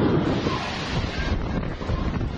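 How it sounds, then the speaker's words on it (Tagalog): Strong typhoon wind roars with heavy rain in a coastal Luzon area, a dense, loud, continuous rush buffeting the microphone and churning steadily throughout, with surf-like noise beneath. "Halos walang makita sa lakas ng hangin at ulan."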